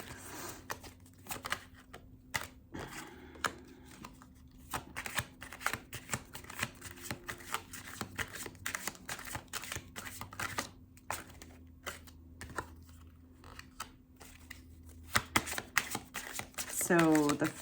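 Tarot cards are shuffled and pulled at close range, a long run of quick riffling and flicking with soft slaps, beneath quiet talk and a faint steady hum.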